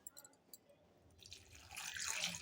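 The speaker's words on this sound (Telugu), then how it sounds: "ఇలా నీళ్ళన్నీ ఇట్లా అంపుకుందాం ఎర్రగిన్నెలకు" Water is poured off from a cooking pot while making sambar, a few faint drips first and then a steady rushing splash that builds and carries on to the end.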